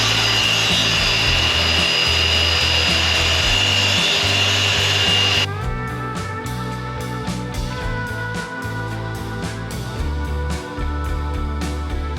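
Power tool cutting out a plywood doghouse wall runs steadily and loudly, with a high whining tone that drops partway through as the blade works the wood, continuous throughout.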